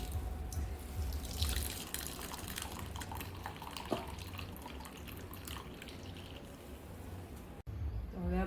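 Water squeezed from shredded cabbage in a cotton cloth trickles and drips steadily, a close, continuous splashing of liquid running out, with a brief break near the end before it resumes.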